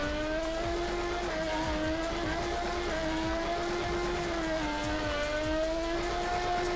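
A Mazda RX-7 FC drift car engine in the Torque Drift video game drones loudly and steadily. Its pitch rises and dips as the throttle is worked through corners.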